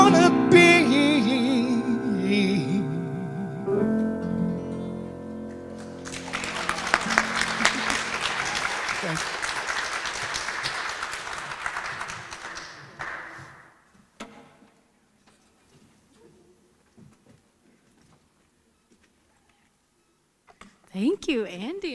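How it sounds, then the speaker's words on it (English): Music and singing in a church service give way to a burst of congregation applause lasting several seconds, which fades out; a voice speaks faintly near the end. "Let's clap for them again."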